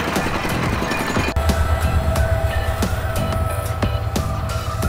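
A train rumbles through Dhaka at night, heard from its roof, with a loud, continuous low mechanical roar and repeated sharp clanks of wheels and couplings.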